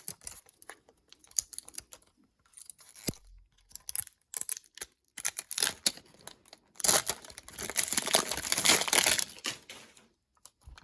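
Plastic toy pod packaging being peeled open from the bottom, with irregular close crinkling and crackling bursts that build into a denser stretch of tearing plastic near the end.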